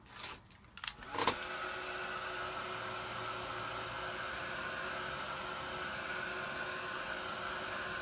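A heat tool blows hot air over paint layers on a canvas, coming on after a couple of short clicks and bumps, then holding a steady, even whir through the rest.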